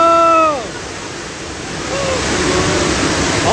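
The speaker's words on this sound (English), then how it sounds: "Oh look, there's water! There's water!" Water gushes and splashes on a Universal Studios Hollywood earthquake ride, a loud steady rushing wash that follows a voice's shout and swells near the end, with people exclaiming over it.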